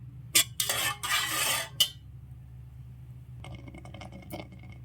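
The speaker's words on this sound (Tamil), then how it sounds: "இந்த ப்ளட்டை நம்ம அடுப்பில் வச்சு கிண்ட போகிறோம்" Goat blood being stirred in a pan on a stovetop, a spoon scraping and clinking against the metal in a loud burst of strokes, then quieter intermittent scraping and light clinks.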